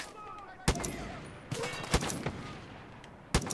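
Gunfire in the video game Far Cry 5 at a winter outpost: a handful of sharp, loud single shots spaced irregularly over steady background game noise, with brief bits of talk.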